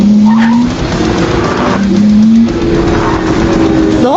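Cars race down a road in a chase, tires squealing in long sustained skids over loud engine roar, close and continuous throughout.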